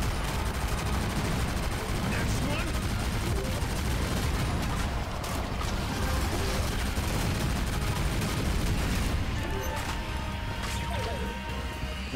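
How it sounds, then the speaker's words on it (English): Rapid, sustained automatic gunfire from a weapon in the shooter game Shadowgun Legends, dense and continuous throughout with crashing impacts layered in, loud and unbroken. "Man, this thing shoots really fast"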